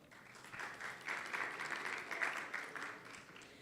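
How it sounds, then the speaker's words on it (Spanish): Audience applause at the Chile Media Show 2025 digital transformation event, a steady faint wash of clapping from a crowd lasting a few seconds, distant and without talk over it. "Un aplauso, por favor."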